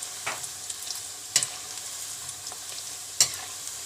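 Sausage frying in hot oil, a soft steady hiss of bubbling fat punctuated by a few sharp spatters and pops, close up and quiet, with no talking.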